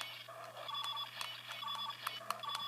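Faint electronic beeps and chirps from a Power Rangers Megaforce Robo Morpher toy, a few short bright tones over a low steady hum, quiet and close.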